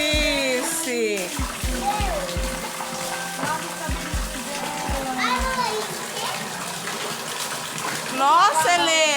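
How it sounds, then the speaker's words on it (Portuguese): Water is poured over a toy doll's head in a small children's toy pool, a light splashing and trickling that runs beneath children's chatter and an adult's voice throughout. "Ó, dá pra jogar água na cabecinha dela, ó."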